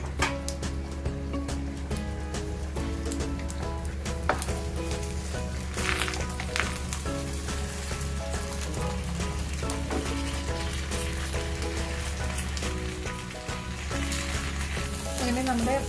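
Fish pollichath (pomfret, aavoli) sizzles steadily as it fries in a pan, a continuous close crackle and hiss with small pops throughout, with a low hum underneath and no talking.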